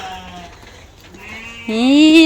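Sheep bleat loudly and close by as they are fed hay, one long wavering call rising at the end over quieter earlier bleats and faint background sounds.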